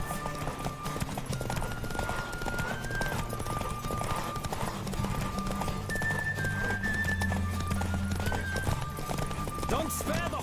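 A horse gallops hard in a Witcher 3 race, hooves pounding in a rapid steady rhythm with a neigh or two, layered over ongoing game music and occasional speech.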